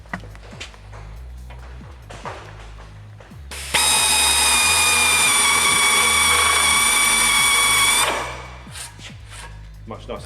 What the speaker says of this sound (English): Much nicer cut, and these are brand new blades